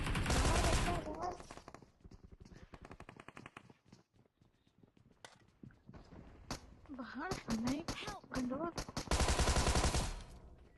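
Bursts of automatic gunfire from a battle royale shooter as enemies are knocked down, loud rapid volleys at the start and end with scattered single shots and footsteps between, and someone talking over the middle.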